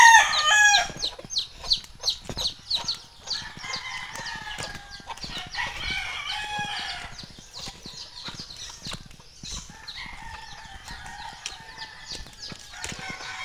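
Chickens cluck busily nearby while a rooster crows, with scattered sharp calls and rustling over a quiet outdoor background.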